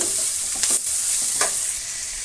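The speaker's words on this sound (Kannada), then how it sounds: "ಟೊಮೆಟೊನ ತುಂಬ ಬಾಡ್ಸಕ್ಕೆ ಹೋಗ್ಬಿಡಿ ಒಂದು ಎರಡು ನಿಮಿಷ ಹಾಗೆ ಫ್ರೈ ಮಾಡಿ" Tomatoes fry and get stirred in a pan, giving a steady close sizzle throughout with a few light scraping strokes of a spoon.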